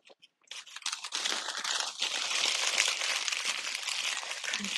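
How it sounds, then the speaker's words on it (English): A Taco Bell food wrapper is crinkled and crunched close up, starting with a few small taps and then turning into continuous loud crackling, with no one talking. "Crunching the wrapper."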